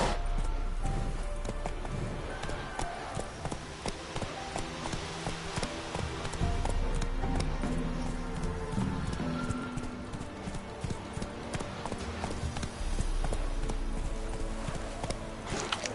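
Roach, Geralt's horse in The Witcher 3: Wild Hunt, gallops steadily with rapid, loud hoofbeats over the game's dense music and ambience, holding a continuous rhythm throughout.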